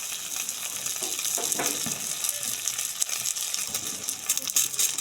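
Amudi fish paturi sizzles in a hot wok, giving a steady frying hiss with scattered crackles and pops. No one speaks.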